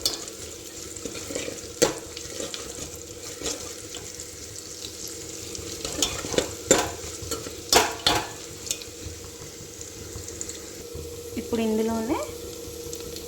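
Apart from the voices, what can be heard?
chana dal and urad dal frying in oil, stirred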